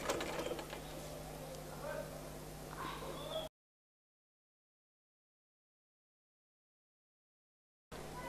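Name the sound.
sewing machine stitching a baby shirt fold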